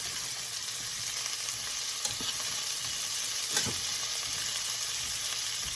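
Green beans and mushrooms sizzle in oil, butter and garlic with a steady, close frying hiss, broken by a couple of brief stirring scrapes.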